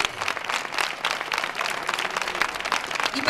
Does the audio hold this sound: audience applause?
yes